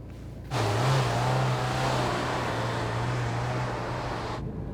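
Car engine starts up abruptly and holds a low, steady droning hum with a rough noisy roar on top, close by, then cuts off; the car is making a strange noise.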